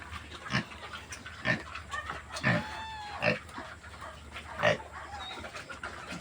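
Several short grunts and snorts from native pigs, including a sow, spaced a second or so apart, close by, with faint birdsong in the background.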